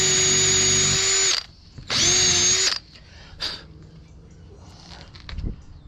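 Two bursts of a whining power drill running at high speed, drilling screw holes during off-road mower reassembly, each about a second long, followed by quiet handling noises and a faint voice.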